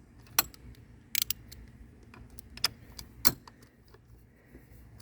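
Bolts being taken out of the trim pump on a three-year-old Mercury 150 four-stroke outboard, heard as scattered close metallic clicks and clinks from tools and hardware over a quiet background, no talking.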